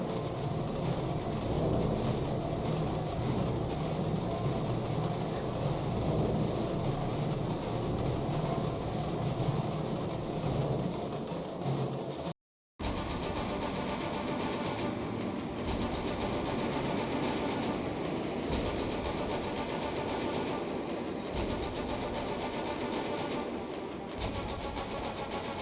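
A train rolls steadily in the adventure game Gadget: Past as Future, a loud continuous rumble with faint clickety-clack rhythm and no talking, broken once by a brief cut midway.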